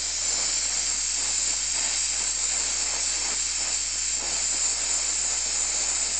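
A gas welding torch hisses steadily while tubing clamps are welded, a loud, constant bright rush holding even for the whole stretch with faint crackling beneath and no talking.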